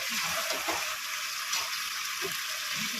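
Water is poured from a bowl into a pan of yogurt chicken curry, giving a steady broad gushing hiss with a faint sizzle underneath that holds evenly throughout.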